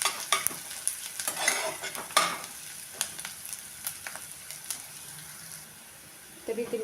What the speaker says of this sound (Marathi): एक मिनिटभर आपल्याला कांदा परतून घ्यायचा आहे तेलामध्ये